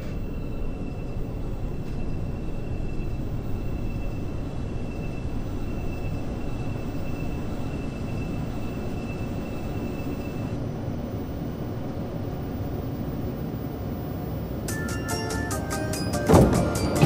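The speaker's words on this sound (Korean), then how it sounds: "The train for Oido is approaching." A Seoul Subway Line 4 train bound for Oido arrives at a station, a long steady rumble of wheels and motors that carries a faint whine and ends in a sharp burst of brake and door noise.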